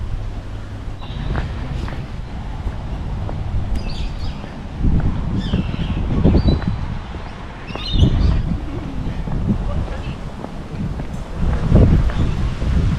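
Wind gusts along the Swan River on a Perth riverside walk, a steady rumbling buffet on the microphone that swells and eases, with faint birds calling now and then in the distance.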